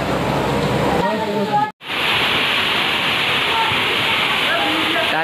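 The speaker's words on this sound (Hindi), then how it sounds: "आप देख सकते हैं कितना तेज वाव के साथ यहाँ पर पानी गिर रहा है" A waterfall at Ghanteshwar Dham near Sapotra pours down with great force during rain, a loud continuous roaring rush that cuts out for a moment and then surges back just as strongly.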